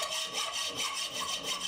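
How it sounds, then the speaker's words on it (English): A hacksaw cuts excess steel from an old file held in a vise, giving rhythmic back-and-forth rasping strokes, about four or five in quick succession, close and moderately quiet. "cut away as much of the excess steel as possible using a"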